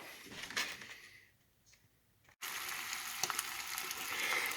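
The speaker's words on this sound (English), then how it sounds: "Look at them egg cooking." Scrambled eggs and maple sausage links fry in a pan with a quiet sizzle that fades, then returns abruptly louder and steady after a cut, with faint crackles.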